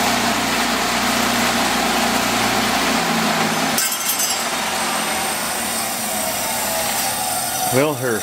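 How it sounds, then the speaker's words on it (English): A Sears and Roebuck one-third horsepower bench grinder with a totally enclosed ball-bearing split-phase motor runs with a steady loud hum and whine, its tone shifting partway through, with faint voices in the background. "her Sears and Roebuck 3rd horsepower bench grinder, totally enclosed ball bearing, split phase motor"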